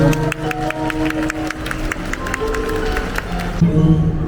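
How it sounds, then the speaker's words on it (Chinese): Crowd applause at a Singapore Xinyao folk song singalong: a steady patter of many hands clapping in quick rhythm, with a voice rising over the clapping near the end. "掌声！"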